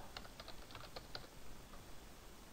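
Quick, irregular keystrokes tap on a computer keyboard, light clicking in a short burst at close range over a faint steady hiss, then fading into quiet.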